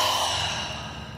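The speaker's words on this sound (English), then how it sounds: "take another deep breath in through your nose and out through your mouth" A slow, deep breath released out through the mouth during a guided gratitude meditation, a soft, close airy exhale that fades gently over about a second.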